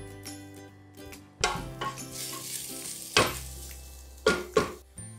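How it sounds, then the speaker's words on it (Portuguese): Onion, pepper, parsley and garlic sauté in a pan for homemade tomato pulp, with a soft sizzle under clinks and scrapes of a utensil stirring against the pan. "A nossa cebola, o pimento, a salsa e o alho já refogar por uns bons 5 minutos."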